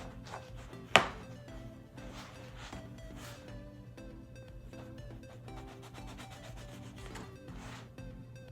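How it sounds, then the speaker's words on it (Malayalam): A knife cuts through a long bread loaf to halve it for garlic bread, with a sharp sawing rasp near the start, then soft rubbing scrapes over steady background music. "ഗാർലിക് ബ്രെഡിന് ഈ ലോങ് ബ്രെഡ് നമ്മൾ കട്ട് ചെയ്ത് നടുകെ"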